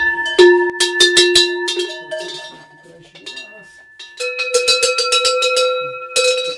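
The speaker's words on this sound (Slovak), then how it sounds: "Toto boli krávské zvonce," Traditional Slovak cow bells, large hand-made folk bells used on cattle, ring in loud clustered clangs with sustained metallic tones, a quieter pause midway, then a second bell with a different pitch ringing steadily close by.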